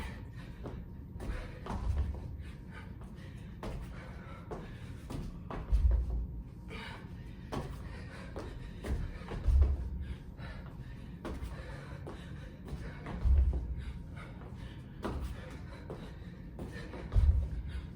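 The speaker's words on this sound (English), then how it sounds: "Only 2 rounds of burpees to go." Dull thuds of burpees landing on the floor during a strength and conditioning workout, a few heavy low impacts spaced several seconds apart over faint background rustling.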